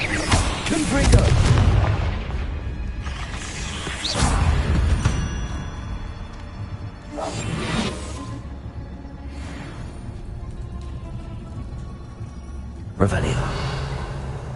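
Booming fire-spell explosions from the video game Hogwarts Legacy go off in repeated heavy blasts with whooshing tails. A voice speaks over the action.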